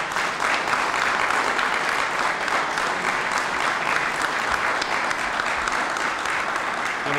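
A crowd at a political rally in Makrakomi breaks into steady, dense applause that holds at an even level for several seconds, with no break and no voices standing out.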